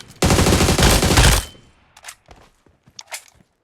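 A burst of automatic gunfire from a gun during BGMI mobile game practice, about a second of rapid loud shots close up, followed by a few scattered faint clicks and taps.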